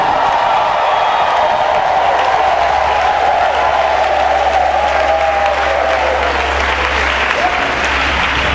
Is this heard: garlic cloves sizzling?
no